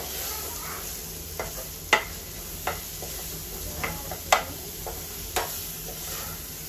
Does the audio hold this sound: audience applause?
no